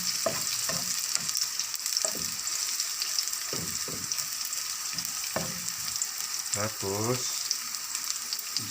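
Onions frying in a pan for pancit Cabagan, a steady sizzle under a woman's brief speech, with occasional stirring clinks.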